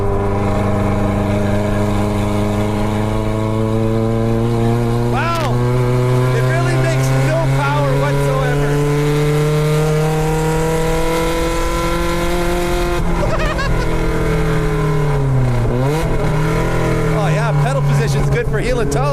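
Datsun 93 car engine warming up, running loud and close throughout with a continuous droning note that rises and falls as it is revved, including a sharp dip and recovery near the end.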